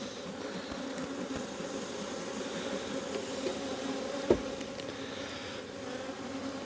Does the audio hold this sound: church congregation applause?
no